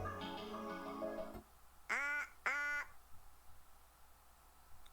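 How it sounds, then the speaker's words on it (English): A duck-like quacking voice from the underwater visual novel game Ever 17 gives two short, bright, nasal quacks after a sustained tonal chime, all fairly quiet against low hum. "I definitely sound like a duck"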